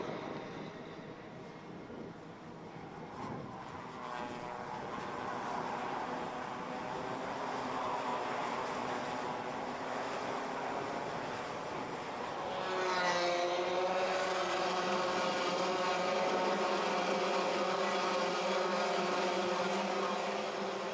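Minimax racing karts lapping the Karting Campillos track during a winter cup heat, a steady buzzing engine drone that rises as a kart passes closer, with no voices.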